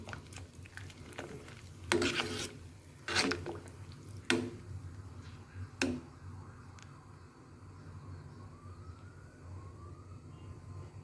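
Beef soup stirred in a pot: several distinct clanks of a utensil against the pot come at irregular intervals over a low, steady background hum.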